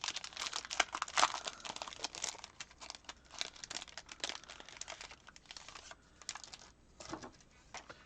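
Plastic packaging of enamel stickers is crinkled and torn open, with close, busy crackling and rustling bursts that come and go in uneven clusters.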